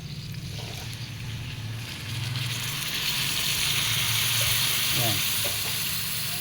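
Soy sauce poured into a hot pan of pork kaldereta with string beans sizzles and fries steadily, the hiss swelling louder partway through, with a brief spoken word over it.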